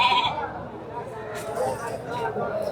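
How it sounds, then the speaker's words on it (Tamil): Domestic sheep bleating at a busy goat market in Ranipettai, a few wavering bleats over a murmur of crowd chatter and people talking nearby. "வளர்ப்பு செம்மறி."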